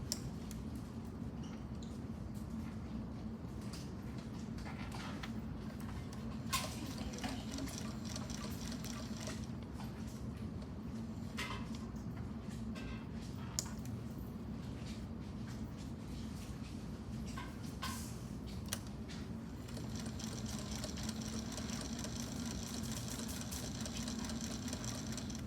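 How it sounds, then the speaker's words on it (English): A quiet sewing machine stitching binding onto a quilt hums and whirs steadily and softly, with light ticking from the mechanism running continuously throughout. "This is a quiet machine."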